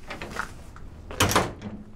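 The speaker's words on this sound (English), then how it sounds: "I'm gonna go ahead here and shut the door on this" An access door on an XT broom sweeper attachment is swung shut with a single solid metallic clunk near the middle. Quieter rattles and handling noise come before it.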